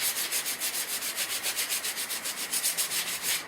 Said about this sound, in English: If you want, you could take some sandpaper,